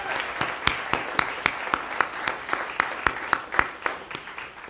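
At an evening speaking event, an audience claps for the speakers, with a steady bed of crowd applause and individual sharp claps standing out near the microphone in an uneven rhythm.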